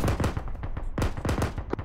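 A mounted machine gun in a military game firing rapid, close, loud bursts at enemies, with sharp shots in quick rhythmic clusters and no talk over them.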